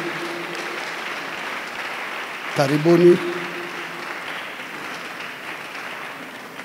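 Audience applause welcoming guests at a regional election gathering, heard as a steady rush of clapping under a voice, with a brief louder swell partway through.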